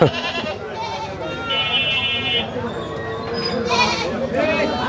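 Goats bleat repeatedly, close by, over continuous talking and background crowd noise.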